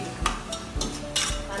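Grated coconut and milk for coconut burfi are stirred in a pan with a spoon, giving a few rhythmic scraping strokes and light metallic knocks, close by.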